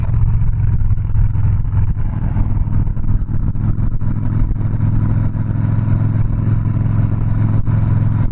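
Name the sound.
Harley-Davidson Softail Slim 103ci motorcycle engine rumbling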